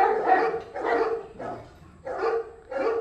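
A big off-leash dog barks five times in a loud, close, evenly spaced series of deep woofs with short gaps, alone with no talk.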